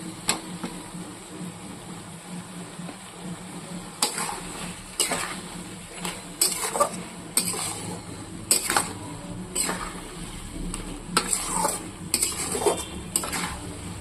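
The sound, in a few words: spices frying in ghee with stirring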